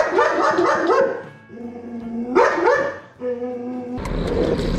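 An adult dog barks at a puppy, giving repeated sharp, tonal barks in short bursts with whimpering yips between them, close and loud, ending in a noisy scuffle.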